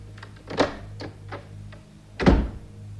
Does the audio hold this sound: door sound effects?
yes